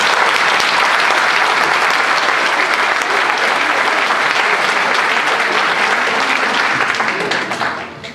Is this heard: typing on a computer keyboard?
no